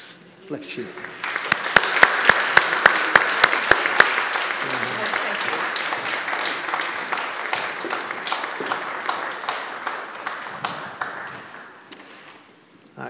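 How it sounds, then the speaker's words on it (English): A church congregation at a traditional Sunday worship service applauds new members, a loud sustained burst of many hands clapping with sharp individual claps standing out, tapering off after several seconds, with a brief spoken remark mixed in. "we are going to applaud the fact that you are now amongst us"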